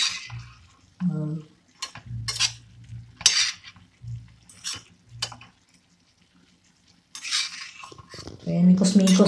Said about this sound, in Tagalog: mikos-mikos lang natin hanggang sa magpantay yung nidagdag natin na flour